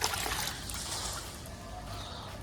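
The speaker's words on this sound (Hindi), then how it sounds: "देखो एक एक ढक्कन ही पानी डाल रहा हूँ सब जगह" Water poured a capful at a time onto household plants, including a tulsi plant, giving a soft close trickle and splash that runs steadily and fades slightly, with no one talking.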